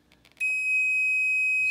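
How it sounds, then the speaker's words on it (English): An electronic alarm on an ammunition reloading press sounds after a few faint mechanical clicks: a steady, piercing high-pitched tone that holds loud and unbroken to the end. "sets off an alarm."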